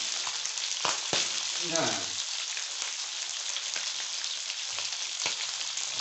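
Orbeez hydrogel beads fry in hot oil with a dense continuous sizzle and sharp bursting pops, while a voice speaks briefly near the start.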